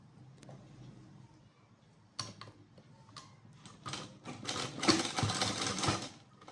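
A sewing machine stitches piping around the neckline of a blouse, running quiet at first, then starting up and speeding into a dense, steady rattle of stitching that grows louder toward the end.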